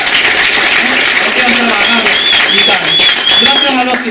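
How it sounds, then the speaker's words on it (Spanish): A church congregation applauds during a Spanish-language service, a steady dense wash of clapping filling the room for several seconds, with a voice speaking over it. "Vamos a darle un aplauso."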